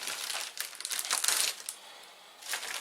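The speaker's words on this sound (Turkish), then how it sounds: "Şimdi arkadaşlar şu kameraları bir poşetini çıkarayım." A plastic bag holding AHD security cameras crinkles and rustles up close in irregular bursts as the cameras are unpacked, fading briefly before another burst of crackling.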